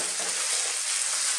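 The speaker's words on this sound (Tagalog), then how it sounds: "Now, ilalagay na po natin ang breast chicken." Small cut pieces of chicken breast fry in a hot pan for a Filipino dish, giving a loud, steady, close-up sizzle with crackling hiss and no talk.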